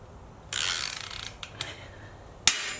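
Milwaukee Fuel 3/8-inch cordless ratchet spinning, a close whirring burst of the mechanism followed by a few sharp clicks and a final clack, with no talking.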